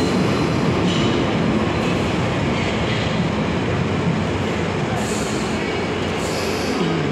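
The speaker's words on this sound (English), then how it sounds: "Train is coming out from the tunnel" A London Underground train rumbles loudly and steadily on its rails coming out of the Earl's Court tunnel, a dense roar with faint high squeals of wheels near the end.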